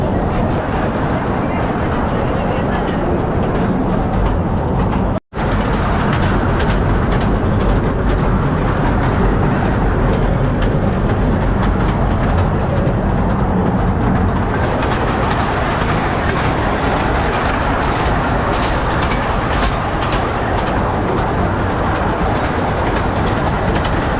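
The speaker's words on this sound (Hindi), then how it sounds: "खूबसूरत सी टॉय ट्रेन।" A small toy train for visitors at the Elephanta Caves rolls past with steady clickety-clack of wheels on rails, a continuous loud rumble with a brief cut partway through.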